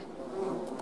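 Honeybees buzz in a freshly opened hive with the lid just lifted, a soft, steady hum that is close but faint and lasts under a second, with no voices.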